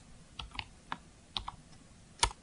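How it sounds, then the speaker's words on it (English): Faint computer keyboard keys pressed for a shortcut while editing, a few sharp separate clicks spread irregularly with one louder final tap, in a quiet room without talk. "I'm going to deselect my selection with the Command or Control D keyboard shortcut."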